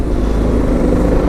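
A BMW 310 GS single-cylinder motorcycle engine revs during a ride, a close, loud, steady drone with no talking.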